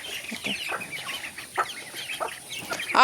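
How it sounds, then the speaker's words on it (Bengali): Several chickens cluck and chatter close by in short, overlapping bursts, with no talking. "মুরগিগুলো সব চলে এলো"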